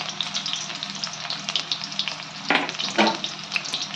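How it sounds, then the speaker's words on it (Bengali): Chopped onion fries in refined oil with a close, crackling sizzle, broken by a couple of louder stirring scrapes near the middle and end. "পেঁয়াজ কুচিটা আমরা ভালো করে ভেজে নেব"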